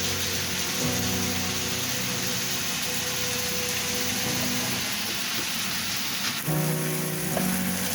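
Minced beef sizzles steadily in a hot pan with salt, a dense continuous crackle that stays loud and close throughout, with a brief stir or scrape near the end.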